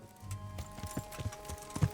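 Mule hooves clip-clopping in Kingdom Come: Deliverance, a steady run of thudding footfalls close by, fairly loud with background game ambience and no talk.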